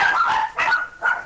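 A dog barks in the background of a tense Search and Destroy match, three close loud bursts with yips and whimper-like edges over steady game noise.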